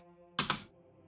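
A single spacebar press on a computer keyboard while playing a video game, a close double click of press and release, crisp and brief over a faint background hum.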